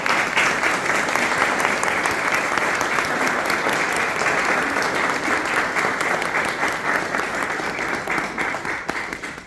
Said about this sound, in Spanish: aplaudimos también